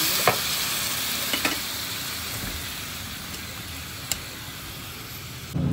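Steady sizzling of chicken frying in a pan, a continuous crackling hiss with a few sharp clicks and utensil taps.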